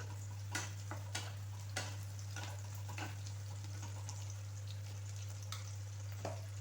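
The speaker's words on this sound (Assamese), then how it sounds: "এতিয়া পিয়াজখিনি ভালদৰে ফ্ৰাই কৰিম" Onions frying in a pan for an Assamese boal fish curry, a steady low sizzle running throughout with a few faint clicks and scrapes of stirring on top, no voices.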